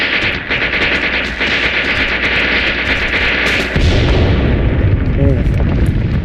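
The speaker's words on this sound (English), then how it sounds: "this explosion was much bigger than a grenade" A big explosion in the Graviteam Tactics Mius Front video game breaks in as a sudden heavy boom partway through, amid ongoing crackling gunfire, leaving a loud rumbling roar afterward.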